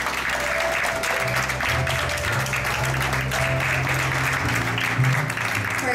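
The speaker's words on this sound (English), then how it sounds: "Let's give her a round of applause." A church congregation applauds in a sustained, dense wash of clapping that holds steady throughout, with an organ or keyboard chord sounding underneath.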